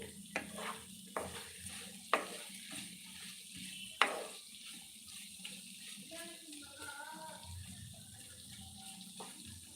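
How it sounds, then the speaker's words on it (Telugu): Tempering spices frying in oil over a low flame for a bitter gourd fry, a soft steady sizzle broken by a few sharp metallic taps and scrapes from a stirring spoon against the pan. "సిమ్లో పెట్టుకొని వేయించుకోవడం వల్ల చూస్తున్నారు కదా మనం పోపులో వేస్తున్న ఆయిల్ అయితే వేసిన ఆయిల్ ఇలా పొంగుతుంది కదండి"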